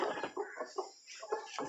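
A broody desi hen clucks in short, repeated bursts, close and fairly loud, with brief gaps between the calls and no talking.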